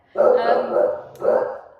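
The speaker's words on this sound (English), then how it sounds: "Barking. There's no one there." A dog barks close by in two drawn-out, howling bursts, the second following a brief pause.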